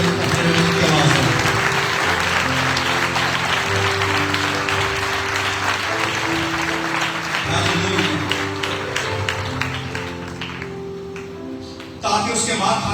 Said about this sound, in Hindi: यीशु के लिए जोरदार ताली।